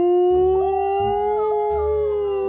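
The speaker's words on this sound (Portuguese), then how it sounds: "São os cachorros uivando o Márcio." Dogs howl in a Roblox video game at a full-moon night scene, one long loud sustained howl with wavering pitch while lower growling pulses recur underneath, close and with no talking.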